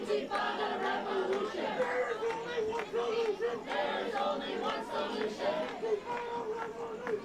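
A protest crowd at UCLA chants and shouts together in steady, rhythmic bursts, with many voices close and loud and a continuous murmur of chatter underneath.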